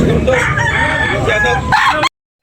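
A rooster crows loudly and close by at a chicken market in Tabunok, a drawn-out call with other fowl clucking around it, cut off abruptly after about two seconds.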